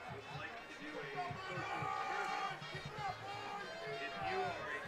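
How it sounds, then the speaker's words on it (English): Crowd murmur from the stands at a Del Oro homecoming high school football game under the lights, a steady low babble of many voices with a commentator talking over it. "Big crowd here tonight for homecoming for Del Oro."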